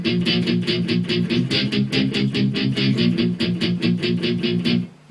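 Guitar playing a pre-chorus: a steady run of bright, evenly strummed chords in a driving rhythm, close and loud, stopping abruptly near the end, no voices.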